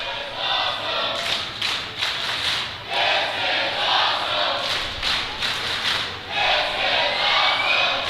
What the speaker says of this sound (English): this crowd going bonkers